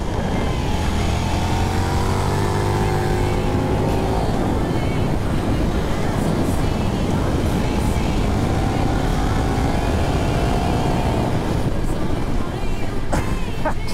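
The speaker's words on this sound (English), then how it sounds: "Engine braking, just perfect amounts of engine braking." A KTM 1390 Super Duke motorcycle engine brakes, its drone falling and rising in pitch over heavy, steady wind rush at speed.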